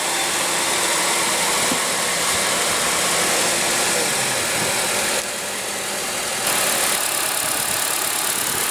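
A 2014 Honda CR-V with its 2.4-liter four-cylinder engine idles close by, a loud, steady hum that holds level throughout with a brief dip midway and no talk.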